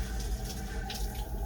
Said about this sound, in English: going to turn the water on.